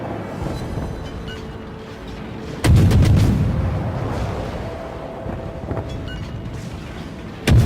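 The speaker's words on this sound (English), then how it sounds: "he's able to concentrate and focus his gunfire" Warship main guns fire in World of Warships, a heavy booming blast that rolls into a long rumble over constant engine and sea noise, with another shot starting at the end.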